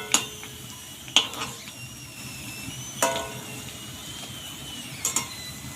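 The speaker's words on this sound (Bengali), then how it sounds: "আজ বাড়িতে প্যাকেট নিয়ে এসেছি, বাড়িতে ভেজে দেখবো কেমন হয়।" Ready-made fuchka puris frying in hot oil in a pan at home, with a soft steady sizzle under a few sharp metallic clinks of a utensil against the pan, close by.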